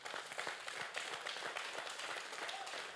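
Church congregation applauding the Lord during a French-language sermon, a steady close wash of hand clapping with faint voices mixed in throughout.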